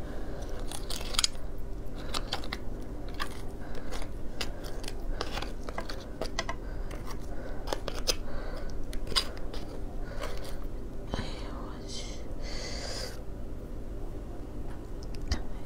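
Crab tail being chewed up close, with steady crunchy bites and wet chewing repeating throughout, fairly quiet and with no talking.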